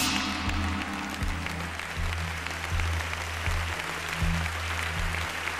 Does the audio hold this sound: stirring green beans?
no